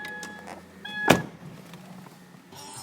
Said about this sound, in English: I'm gonna have to close that door to stop it beeping.